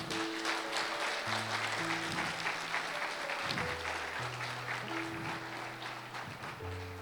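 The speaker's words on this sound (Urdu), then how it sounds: "خداوند کے لیے زوردار تالیاں بجا دیں" A church congregation claps loudly and continuously for the Lord, with sustained, dense applause and a held keyboard or organ chord underneath.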